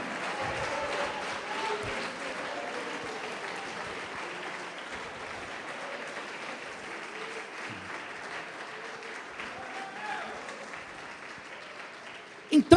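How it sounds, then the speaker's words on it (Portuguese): Sustained applause from a church congregation, steady and full throughout, ending with a couple of louder bumps. "Aplaude aquele que te abençoa."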